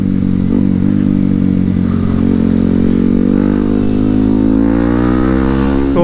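A bored-up Yamaha WR155 motorcycle engine revs hard while being ridden in third gear, a loud, dense, continuous roar climbing steadily in pitch as it accelerates, close to the mic, with no talking.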